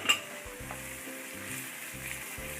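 Besan and maida flour sizzle and fry in a pan while being stirred for halwa, a soft steady hiss with faint scraping, and no voices.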